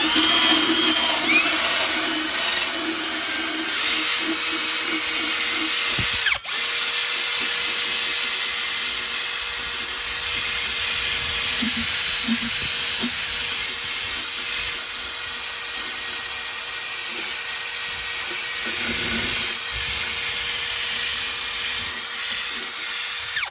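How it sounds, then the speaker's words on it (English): A wire wheel on a power tool scrubbing the underbody of a Jaguar XJS, a loud, steady high whirring grind that runs on continuously with small dips as it bites, close and with no speech. "that's about 10 minutes with the wire wheel"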